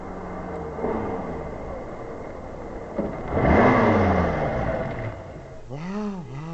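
An old car slows and pulls over to a stop beside a grand building, its engine easing down with a brief swell of road noise, then idling out near the end.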